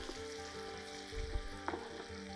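Chicken pieces frying in hot oil in a Telangana-style chicken fry, a steady close sizzle with a few louder crackling bursts midway.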